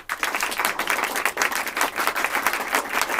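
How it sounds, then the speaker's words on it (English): Steady round of applause from an audience at a stand-up talk event, dense clapping filling the whole stretch at even loudness with no speech over it. "Round of applause"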